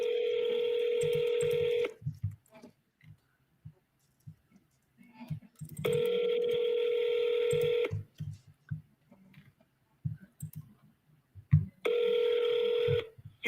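Telephone dialing and ringing while placing a call, with repeated two-second electronic ring tones alternating with soft clicks and handling noises up close.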